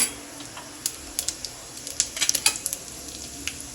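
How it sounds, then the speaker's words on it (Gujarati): About a teaspoon of cumin seeds sizzle and pop in hot desi ghee, with scattered sharp crackles over a soft hiss, close up and moderately loud. "હવે અંદર 1 ચમચી જેટલું જીરું એડ કરી દેવાનું છે"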